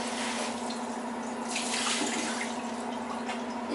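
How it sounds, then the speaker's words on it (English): Tap water pours steadily into a cooking pot for homemade Portuguese soup, a continuous close splashing rush with a faint tonal hum beneath, running without pause and with no talking. "More water going in."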